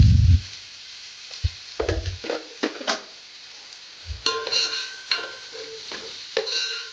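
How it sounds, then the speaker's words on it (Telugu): Onions fry to light brown with turmeric in a pan for Hyderabadi dalcha, stirred with a spoon that knocks and scrapes in irregular bursts over a faint background sizzle, close by and without speech. "కొంచెం పసుపు వేసుకొని మళ్ళీ ఒకసారి మిక్స్ చేద్దాం"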